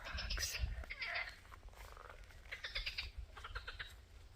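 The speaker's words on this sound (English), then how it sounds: "Listen to the frogs." Frogs croaking in and around a wine barrel pond on an Italian homestead, irregular raspy calls overlapping one another, faint and nearby, with some low background noise.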